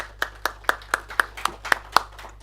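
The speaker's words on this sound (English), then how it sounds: "please, we have a round of applause for our panelists." Round of clapping from a small panel-discussion audience: about nine sharp, evenly spaced claps, fairly close and moderately loud, with a faint steady hum beneath and no talking.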